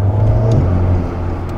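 An Alpine A110 S engine idles low and steady near 2500 rpm with a rising rev and a slight dip, a close, loud rumble with no talk over it.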